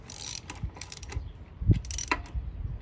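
Ratchet wrench snugging lug nuts on a first-generation Nissan Xterra wheel, quick clicking ratchet bursts with a metallic knock partway through, close and fairly loud.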